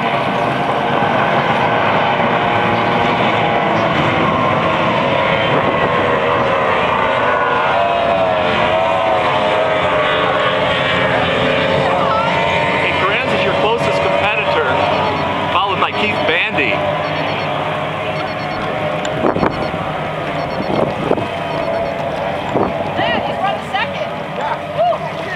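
Racing boat engines drone loudly at the start of a heat, with a sustained roar and rising and falling tones that continue throughout while people talk over them.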